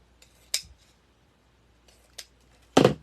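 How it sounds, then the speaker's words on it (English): Scissors snipping ribbon tails at an angle for a fall wreath, three short crisp metallic cuts spaced apart, the last one loudest, close-up in a quiet room. "I'm going to again cut at an angle"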